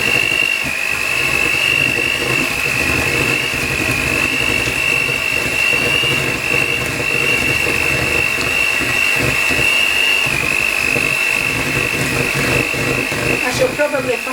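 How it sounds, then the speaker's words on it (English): A whisk beats cocoa powder into a mixture in a home kitchen, a steady continuous rattling churn that carries on for the whole stretch alongside a droning background hum. "Now you need a whisk, and whisk it all in."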